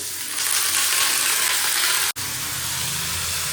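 Flat beans and potatoes fry in a pan with a steady, close, hissing sizzle that stays constant and is broken only by a brief clunk near the end, with no voices.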